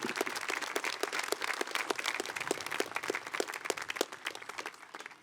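A high school graduation audience applauds the student speakers with a lively, fairly distant round of many hands clapping, steady and then tapering off slightly.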